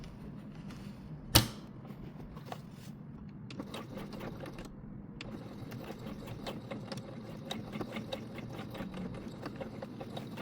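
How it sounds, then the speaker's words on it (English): Sewing machine stitching elastic onto OCP uniform pants, a faint rapid mechanical whir running in short bursts after one sharp knock near the start. "we're just going to sew back and forth like this along the width of the elastic."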